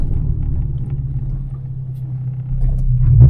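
Honda Civic EK4 with a B16 engine, heard from inside on a country road: a steady low engine drone and road rumble that swells louder toward the end as it pulls harder.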